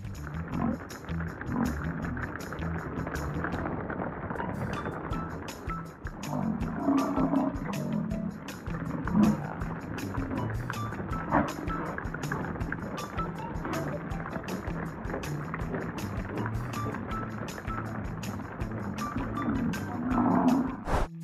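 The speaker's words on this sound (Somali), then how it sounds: "xakamaynta koox dibiyaal ah oo meel loo guurinayo ma ahan hawl sahlan." A herd of bulls being moved, with deep lowing calls rising now and then over a continuous rumbling bed of hooves and movement, and some voices faintly underneath.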